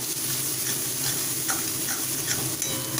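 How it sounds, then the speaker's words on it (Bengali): Frying food with a little sugar is stirred in a pan, a continuous sizzle with soft utensil scrapes and light taps against the pan surface, close and steady. "আবার একটু নাড়াচাড়া করব"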